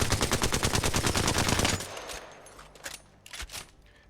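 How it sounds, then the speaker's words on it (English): The Alternator submachine gun in the video game Apex Legends fires a fast, loud burst of rapid shots for under two seconds, then stops, leaving a few scattered fainter bangs and clatter. "Next up, we have the alternator."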